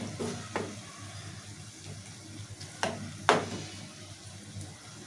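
Curry is stirred in a pan while cooking, with a few sharp scraping strokes over a soft sizzle and background hum, close by and with no talk.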